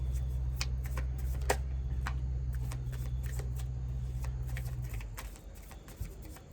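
Tarot cards are shuffled and drawn from a deck in a close, quiet room, giving soft rapid riffling and crisp flicks over a low steady hum that cuts out near the end.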